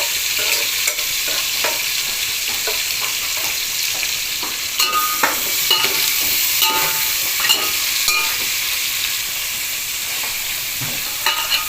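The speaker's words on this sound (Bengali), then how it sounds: "আলু ভাজা হয়ে গেছে" Potatoes fry in oil in a pan. A loud, continuous sizzle and hiss runs throughout, with occasional taps and stirring scrapes. No one speaks.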